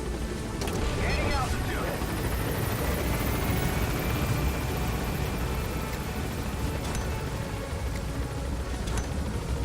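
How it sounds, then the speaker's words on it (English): Video game helicopter climbing in Metal Gear Solid V, a steady loud rotor and engine roar filling the scene throughout with faint rising whine, under occasional game effects. "I keep hitting the helicopter."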